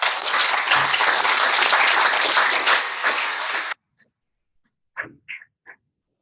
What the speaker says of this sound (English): and can we give Hera a clap?